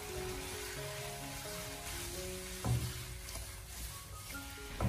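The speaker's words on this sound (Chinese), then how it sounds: "最后大火翻炒出锅气" Spring bamboo shoots and cured pork, with green and red chili and scallion, are stir-fried over high heat, giving a soft, continuous sizzle with a few light scraping stirs.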